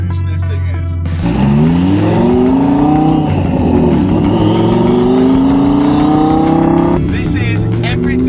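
A turbocharged rear-wheel-drive Lamborghini accelerates hard, its loud engine note climbing steadily in pitch for several seconds before easing off, heard close and dominating the scene.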